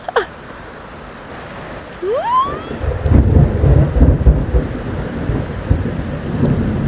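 Deep, loud thunder rolling in after a brief rising chirp, swelling into a sustained rumble that lasts several seconds with a gusty, rain-like wash beneath it.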